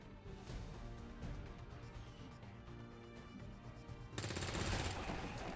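Gunfire in XCOM 2, a run of rapid shots with a rattling, machine-gun-like texture that turns into a louder, denser burst near the end, all quite faint overall.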